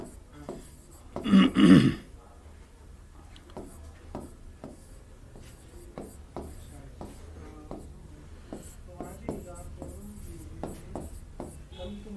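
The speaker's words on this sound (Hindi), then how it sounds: "साइंटिस्ट का नाम लिखेंगे रॉबर्ट हुक" Marker or chalk writing on a classroom board during a biology lesson, a steady series of short scratchy strokes and taps over about ten seconds, preceded by a brief throat-clearing or voiced sound near the start.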